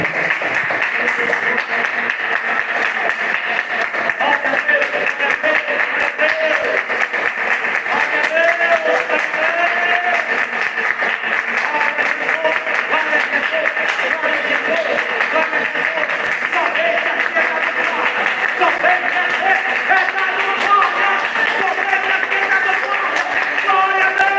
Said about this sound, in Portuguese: vamos todos bater palmas